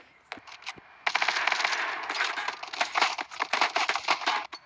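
Rapid bursts of video game gunfire rattle continuously after a few opening shots, loud and close, with no one talking.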